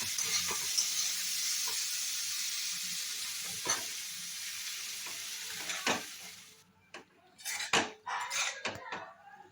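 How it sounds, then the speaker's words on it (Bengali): Dry fruits fry and are stirred in a pan, giving a steady sizzle with repeated scraping and clinking of a utensil against the pan, then louder, irregular clatter as the sizzle drops away. "এটা জাস্ট ভাজা ভাজা হতে থাক।"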